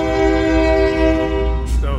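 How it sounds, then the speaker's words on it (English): A passing train sounds a loud, sustained horn close by, its steady tone holding for about two seconds beside a restored old house, with rumble underneath and a brief noisy burst near the end. "people get a pretty good look at a train at least once or twice a day."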